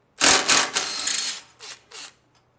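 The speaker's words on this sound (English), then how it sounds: "remove the bolt at the back of the tank here. This is a 12mm socket" Ratchet with a 12mm socket turning the rear gas tank bolt on a Honda Shadow Phantom, a close, crisp burst of rapid clicking followed by two shorter clicking bursts, then quiet.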